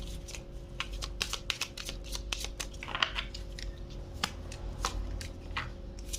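Tarot cards shuffled and dealt out, ten laid on a surface, heard as quick crisp riffles and slaps in irregular bursts, close and fairly loud against quiet room tone.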